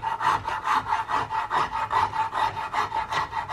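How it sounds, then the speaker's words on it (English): A coarse rasp filing a wooden rifle stock's cheek rest on a CVA Hawken build, steady rhythmic back-and-forth rasping strokes, close and loud with no talk. "I jumped to this pretty coarse rasp to really try to get that removed quickly"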